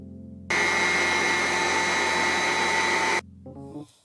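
A dough machine kneading pita bread dough runs with a steady, loud motor whir for about three seconds and then shuts off, leaving a low background hum.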